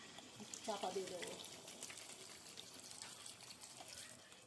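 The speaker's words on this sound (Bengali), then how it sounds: "এবার আমি একটু জল দিয়ে গ্রেভি তৈরি করার জন্য একটু জল দিয়ে চাপা দিয়ে দেবো।" Water poured onto chicken in a pot to make gravy for chicken biryani, a brief gushing splash early on that fades into a quieter background hiss.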